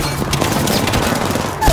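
Shotgun blasts in the video game Apex Legends fire in an uneven string of punchy, booming shots over a busy, dense game mix.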